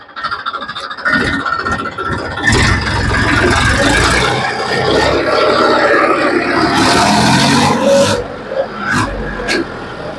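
A Massey Ferguson 241 tractor engine runs loud and steady close by, a continuous rough drone with surges of power throughout.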